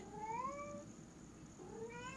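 A cat gives two clear meows, one early and one near the end, against a quiet indoor background.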